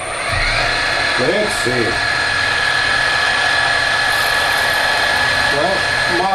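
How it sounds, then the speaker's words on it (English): An electric drill runs steadily while drilling with a DIY cutting-oil dispenser, giving a continuous even whine that holds from start to finish, with a brief spoken remark early on. "Switch the drill on."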